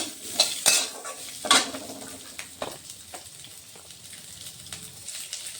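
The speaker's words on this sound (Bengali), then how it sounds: "এই যে এগুলোকে আমি একটু সামান্য তেলের মধ্যে একটু ভেজে নেব" Ginger frying in a little oil, a soft sizzle beneath several clattering stirs and scrapes of a utensil against the pan, louder at first and then settling into lighter taps.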